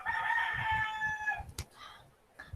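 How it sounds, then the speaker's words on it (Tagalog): A rooster crows loudly and nearby in one long drawn-out call, followed by brief clucks and faint rustling in a quiet room. "Naiinis na ako sa mga manok na to"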